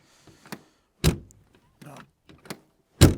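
A Jaguar Mark 2's car door is pulled and shut, giving several separate thunks and clicks spread over a few seconds, with the last slam loudest and closest.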